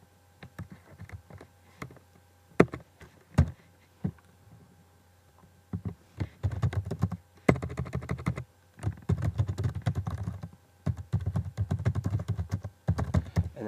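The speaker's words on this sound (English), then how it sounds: "So I can type in my name, type in my note," Typing on a computer keyboard while entering a name and note into a web form: sparse single key taps at first, then dense rapid clattering runs of keystrokes, close and clear with no voice.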